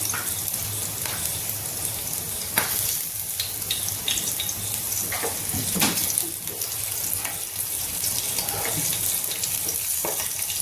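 Chilies and garlic fry in hot oil for a home-style ridge gourd curry, giving a steady, close sizzle with scattered crackles and spits throughout, and no talking.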